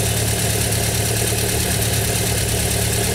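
A car engine idles steadily during a head gasket leak test, a continuous mid-low rumble with constant vibration, close and unchanging throughout.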